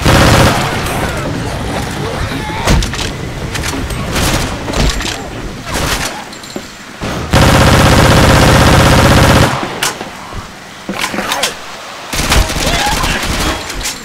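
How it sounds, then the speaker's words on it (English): A grenade blast followed by heavy automatic fire in Left 4 Dead 2 using Modern Warfare 3 weapons: loud, dense rattling volleys with a sustained roaring burst in the middle, while a player's voice shouts over the din. "Grenade!"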